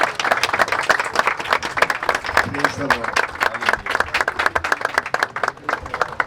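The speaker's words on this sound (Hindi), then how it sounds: "जोरदार तालियां।" Loud, dense applause from a crowd at the opening ceremony of a musical instrument shop, steady rapid clapping for the whole stretch with voices and cheers mixed underneath.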